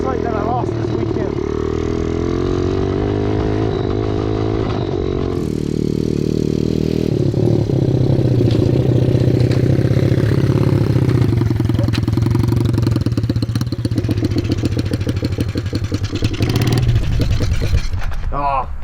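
Junkyard-built 110cc shifter mini bike engine running loud and close, a rough, buzzing idle that steps up to a higher, steadier drone after a few seconds and holds for a long stretch.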